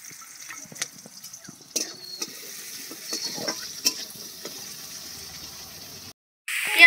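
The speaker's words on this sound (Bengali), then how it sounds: "কড়াইতে বেশ কিছুটা পরিমাণ তেল দিয়ে এখানে দুটো মিডিয়াম সাইজের পেঁয়াজ কুচি দিয়ে দিচ্ছি" Two medium chopped onions fry in a generous amount of oil in a wok. A fairly quiet, close sizzle is dotted with clicks and stirring scrapes, then a brief cut near the end gives way to a louder burst.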